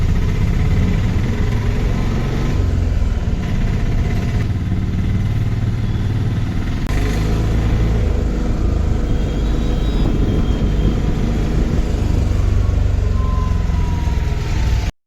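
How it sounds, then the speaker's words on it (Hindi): An auto rickshaw engine drones and rumbles steadily during a ride through town in Odisha, with loud low-pitched engine noise throughout, slight shifts as it moves, and a faint horn-like tone briefly in the background. "ଚାଲନ୍ତୁ ଯିବା ଅଟୋରେ।"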